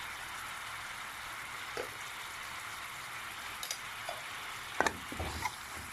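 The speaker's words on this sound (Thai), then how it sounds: "กะทิของเราก็ เดือดแล้วนะคะ เราก็จะเอาพริก ที่เราตำไว้นะคะลงไปเลยนะคะ" Pounded chili curry paste drops into boiling coconut milk, giving a soft, even sizzling hiss with a few faint stirring knocks and scrapes near the end.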